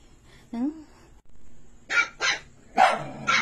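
A dog barks at night, a few loud close barks and yips separated by pauses, with a whimpering note early on and a person talking in between.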